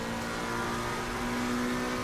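McLaren 720S GT3 Evo race car in Assetto Corsa Competizione, its engine droning steadily at low revs with a constant pitched tone, loud and continuous with no talk.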